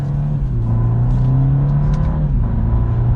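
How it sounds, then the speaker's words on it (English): A 2023 BMW 230i M Sport accelerates hard, its engine drone climbing steadily and loudly, then dipping briefly with a gear shift near the end before pulling again. "Another acceleration."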